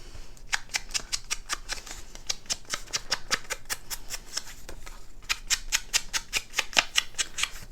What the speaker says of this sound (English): Sorry about the noise that it makes. This is actually a sponge.